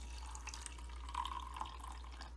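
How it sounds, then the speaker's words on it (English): Hot water runs into a small lab beaker in a kindergarten water density demonstration, a soft, steady trickle with a low hum underneath, close and fairly quiet, with no voices. "I'm gonna start by putting my hot water in my little beaker in my lab"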